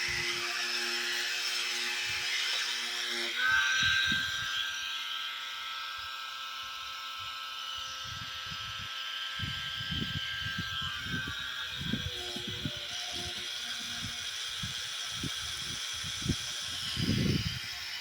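A solar-powered water pump motor runs with a steady mechanical whine and hum, joined partway through by a higher tone, with intermittent knocks and handling thumps nearby.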